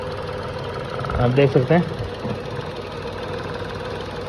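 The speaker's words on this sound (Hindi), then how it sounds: "इतनी वाइब्रेशन इसके अंदर है, इंजन के अंदर, इंजन के ऊपर" A Tata Nexon engine idles with heavy vibration, giving a steady low hum and faint knock under someone speaking briefly over it.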